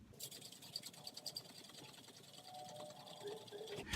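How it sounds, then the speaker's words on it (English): A cocktail shaker dry-shaken hard without ice for a tea and honey drink, a rapid close rhythmic rattling and sloshing that runs steadily for a few seconds. "you shake it without ice very vigorously for 5 to 10 seconds"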